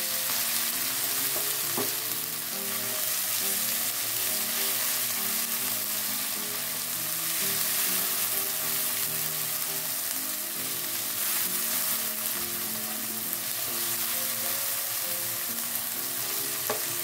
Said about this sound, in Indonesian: masukkan cabai dan tomatnya. Kita tumis sampai aromanya betul-betul keluar